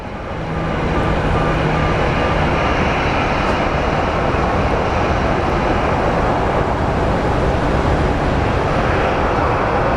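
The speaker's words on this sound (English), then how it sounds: "let's watch a landing since nothing is moving" An airliner lands at Phoenix Sky Harbor International Airport, a loud, steady broadband engine roar that swells in within the first second and holds without letup.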